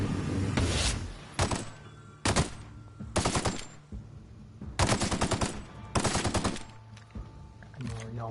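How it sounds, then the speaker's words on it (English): Automatic assault rifle bursts in The Outer Worlds video game, several loud rapid-fire volleys spaced by short pauses, close and punchy with sharp cracks. "I'm gonna try and use this assault rifle."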